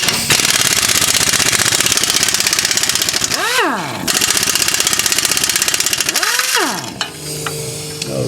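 A pneumatic impact gun hammers loose 14mm motor mount bolts in two long, loud rattling bursts, each ending with a whining spin-down, close up in a garage.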